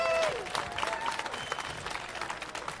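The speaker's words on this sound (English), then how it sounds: "Could you please clap?" An outdoor crowd at an Alberta independence rally breaks into scattered, sustained clapping, a loose patter of many hands with a rising tone and a voice briefly audible at the start.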